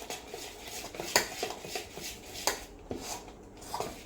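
Sweet corn dhokla batter mixed with Eno is stirred briskly in a metal bowl, a spoon scraping and clinking against the sides in quick irregular strokes, faint and close with no voices.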